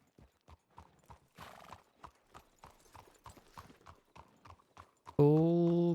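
Hooves clip-clop in an uneven rhythm on a hard surface in the video game WildRP, several distinct steps, followed by a loud, close horse neigh near the end.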